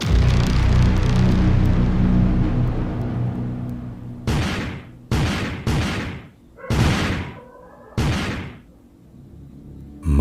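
In an Urdu audio drama, a firecracker goes off when someone steps on it in the dark, followed by a series of sharp, loud bangs spaced about a second apart, each with a quick decaying tail, with no talking.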